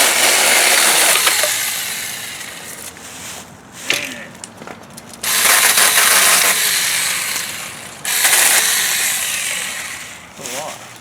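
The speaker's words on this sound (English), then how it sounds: "Gonna cut a bunch of stuff with my handheld chainsaw." A small handheld battery-powered chainsaw buzzes in several bursts, revving up and cutting, then dropping off between cuts, with a voice briefly heard during pauses.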